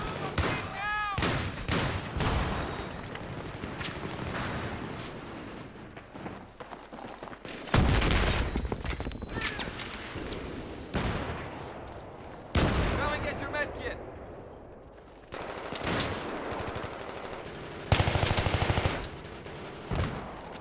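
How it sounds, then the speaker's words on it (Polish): Bursts of rapid gunfire and single shots crack repeatedly in Battlefield 3 on the Grand Bazaar map, loud and close, including an M16, mixed with game effects and a voice speaking at times. "Strzały stamtąd dochodziły."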